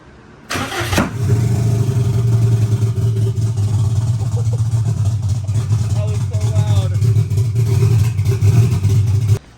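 A Subaru 22B STi engine fires up and idles roughly on new injectors, a loud low uneven rumble with a slight wavering pitch, close by, after a sharp start at the beginning.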